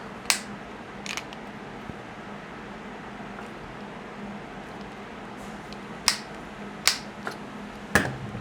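A torque wrench gives sharp, faint clicks while bolts on a ShaloTek FLEX frame are tightened to 14 inch-pounds, scattered single and paired clicks over quiet room noise.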